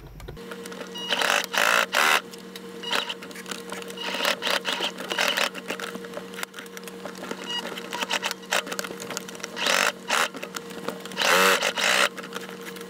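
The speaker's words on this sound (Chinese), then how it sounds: "在开始缝之前，要记得先换上比较适合缝牛仔布料的100号针。" A sewing machine fitted with a size 100 needle stitches black thread along the front pocket seams of secondhand denim jeans, running in close bursts of rapid mechanical whirring with brief pauses between runs.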